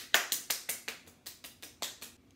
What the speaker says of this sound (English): you guys would like to give me a round of applause